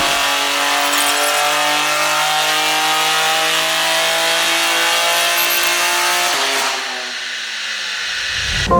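A tuned BMW G80 M3 xDrive turbo engine roars steadily at high revs on a dyno run, loud and sustained, then the revs drop with a hissing wind-down near the end.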